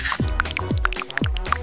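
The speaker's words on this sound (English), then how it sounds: "Now just add water." Water is poured and dripped into a shoe craft built around a big heel, giving repeated wet drips and squishy plops at a steady, close-up pace with no talking.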